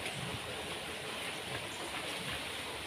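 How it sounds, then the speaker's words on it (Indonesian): A strong river current rushes at the Katulampa dam in Bogor, heard as a steady, dense roar of water that stays loud and constant the whole time, with no voices. "Alirannya deras banget ya."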